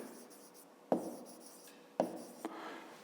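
Pen strokes on paper while writing out a digit sum for a fifth-grade maths exercise, a few close scratchy bursts with sharp onsets and soft scraping between, no voice present.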